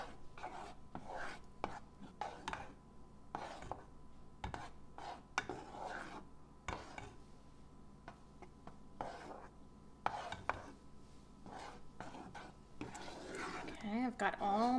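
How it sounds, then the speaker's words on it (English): Melting cheese sauce stirred in a bowl to work out clumps: a spoon scrapes and clicks against the bowl in repeated short strokes, close and fairly quiet, between bursts of a person talking. "Stir, stir, stir."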